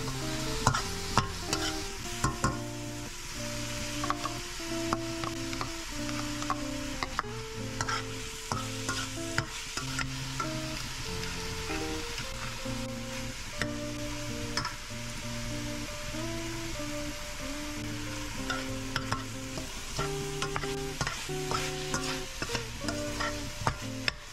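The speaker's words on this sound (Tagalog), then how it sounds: "Igisa ang karne ng baka hanggang sa mag-brown ito." Beef being sautéed in a hot pan with beef tallow or oil: a steady sizzle and frying crackle throughout, with repeated scraping stirs, close and continuous, over quiet background music.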